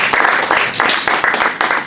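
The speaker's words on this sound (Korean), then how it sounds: "여러분 박수 한번 부탁드립니다" Audience applause at an internet forum panel event on smart cities: a dense, loud burst of clapping with a pulsing, rhythmic swell, filling the whole moment.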